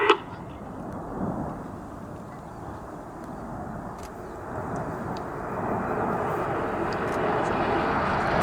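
RAF Red Arrows jets flying in formation at the Duxford D-Day80 summer air show, a broad distant roar swelling slowly and growing louder toward the end, with an announcer talking over it.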